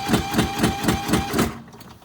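A riding lawn mower engine sputters and chugs in a quick, regular pulsing rhythm of about six beats, close and fairly loud, then cuts out into near silence.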